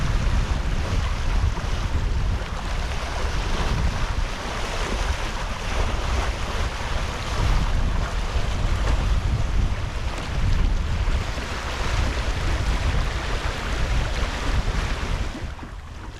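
A traditional sailing boat under sail on the Oosterschelde, with steady wind buffeting and the constant rush of waves along the hull, loud and continuous throughout.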